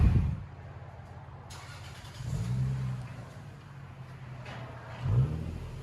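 Lexus LS 460L V8 with a modified exhaust and otherwise stock, idling with a low, deep rumble and giving two short throttle blips, one midway and one near the end, heard fairly close.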